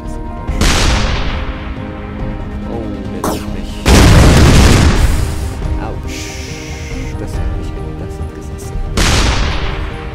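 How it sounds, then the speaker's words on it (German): Grenade explosions from the ShellShock Live artillery game: several loud booming blasts with rumbling decay, the biggest hitting midway, with smaller pops and a final burst near the end. "Ich schicke eiskalt noch eine Granate hinterher."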